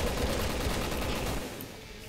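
Rapid gunfire bursts from the PC video game Resident Evil 6, loud and dense for about a second and a half before easing into a quieter tail of in-game noise.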